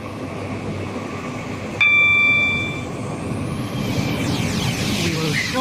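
A passenger train in the Stepford County Railway game rolls along on a Stepford Connect service, a steady rumbling hum with a brief tonal horn or chime partway through, then continuing motion noise.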